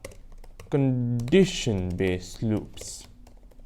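Someone types on a computer keyboard, giving soft, quick clicks that fall between and under a man's spoken words. The taps are close and fairly quiet.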